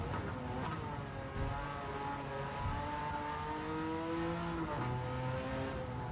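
Porsche 959 race car from 1987 in Gran Turismo 7 on the Tokyo Expressway, its engine droning steadily with shifting pitch through gear changes, loud and continuous with no one talking.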